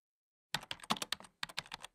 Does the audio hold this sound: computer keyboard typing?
yes